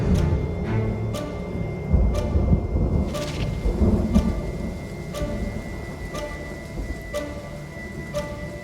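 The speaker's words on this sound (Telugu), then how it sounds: "వర్షం తగ్గేలా లేదే." Heavy rain pours steadily throughout, with repeated sharp thunder cracks and a deeper rumbling roll in the middle, all fairly close and loud with no talking.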